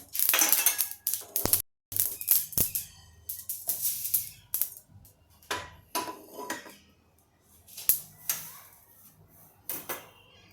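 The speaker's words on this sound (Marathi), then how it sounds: "आता हे आपण ताटली काढून घेऊया" A steel plate is lifted out and handled in a home kitchen while gooseberry pickle is being made, giving close, sharp metallic clinks and clatters in irregular bursts with short pauses between them.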